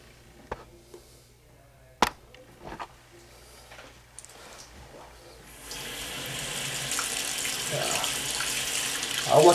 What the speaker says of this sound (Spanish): I can show the water there, the faucet.